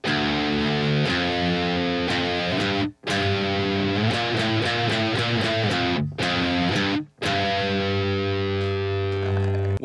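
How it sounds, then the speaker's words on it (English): Heavily distorted electric guitar through a death metal distortion pedal, chugging and ringing chords, loud and dense, with two brief abrupt silences breaking the riff. "I also got a death metal distortion pedal"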